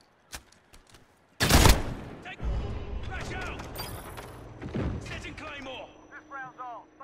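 Automatic gunfire in Call of Duty Modern Warfare, a 2v2 multiplayer match: a loud burst of rapid shots erupts, followed by scattered firing, impacts and crashes, with game effects chirping near the end.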